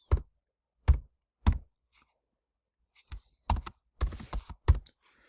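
Keys being typed on a computer keyboard, with a few isolated taps at first, a pause, then a quicker cluster of clicks near the end; close and clear with no talk.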